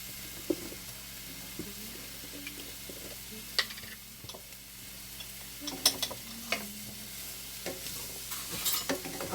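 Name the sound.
garlic frying in a pan for rasta pasta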